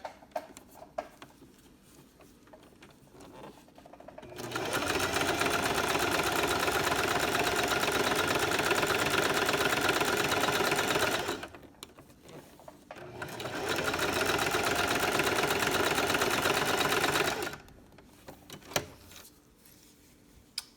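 Home sewing machine running a zigzag stitch along an inner seam of a baby sleeper, two sustained bursts of fast whirring separated by a brief pause, close and clear, with faint handling sounds between.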